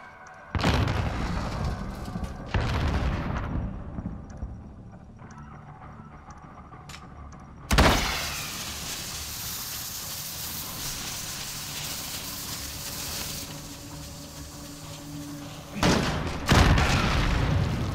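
Bomb detonations in a video game boom out as several heavy blasts spread across the stretch, each a loud broadband thump with a rumbling tail, separated by quieter game ambience.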